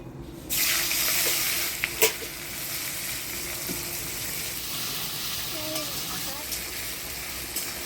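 Whole garam masala, bay leaf and dried red chilli sizzle in hot oil for a Bengali kosha mangsho. A steady hiss of frying starts after a brief quiet moment and carries on evenly, with a few small clinks of utensils over it.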